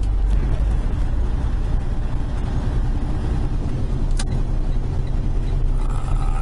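Truck engine idling and rumbling steadily at close range while the driver selects a gear, with a brief hiss partway through.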